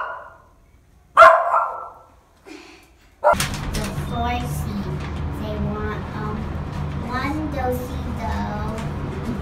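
A dog barks sharply once or twice inside an apartment building, a loud, short burst near the start, then people talk over a steady background hum.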